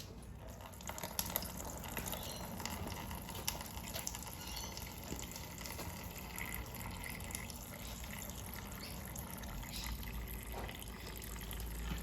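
Coolant drains steadily from a Honda CRF250L motorcycle radiator hose into a funnel, a continuous trickling pour with small drips, close but fairly quiet, with no talking.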